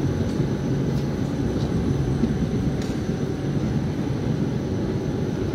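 Azad Hind Express passenger train rolling through the Jharsuguda rail yard among coal-loaded freight wagons, giving a steady, continuous low rumble of wheels and carriages close by with no talking.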